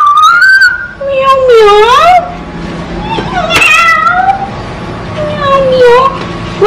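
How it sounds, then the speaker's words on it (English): Repeated electronic cat meows from an animal app on an iPod, loud and close, with several drawn-out mews in a row and some speech mixed in. "Kaya pala nagmamiyaw-miyaw siya kasi may cat siya doon."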